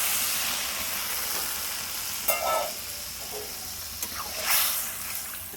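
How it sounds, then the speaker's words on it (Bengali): Jackfruit and potato curry with prawns fries in a pan and gives a steady, bright sizzling hiss. Water added partway through brings a few splashy bursts and stirring scrapes above the constant frying noise. "জল দিয়ে দেবো"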